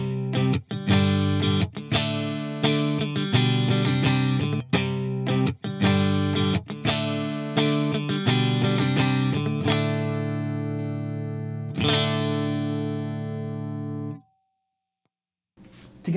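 Clean electric guitar tone through a Bogner Ecstasy amplifier, strummed chords in a steady rhythm for about fourteen seconds, bright and loud, ending on a ringing chord before a brief silence.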